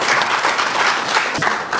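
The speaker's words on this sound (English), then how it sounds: "a round of applause, ladies and gentlemen." An audience at a travel company's anniversary seminar in a hotel breaks into loud, dense applause, a continuous wash of clapping heard close up.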